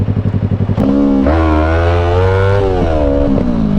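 A Yamaha R25 motorcycle idles with a pulsing putter, then the throttle snaps open into a loud, rising rev with a strong engine whine that climbs, holds and eases off, close by and with no talking.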